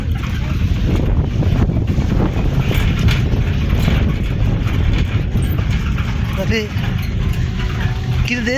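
Wind buffets an outdoor microphone in a continuous loud, rumbling roar that covers the whole stretch, with a voice faintly audible near the end.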